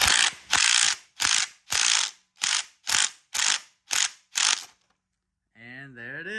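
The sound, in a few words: ratchet tightening harmonic balancer puller on LS engine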